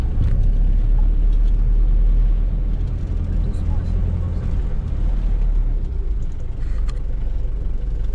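A car pulls away from a restaurant near Ephesus in Turkey, its engine rumbling low and steady from inside the cabin, with constant road and rain noise and occasional faint clicks.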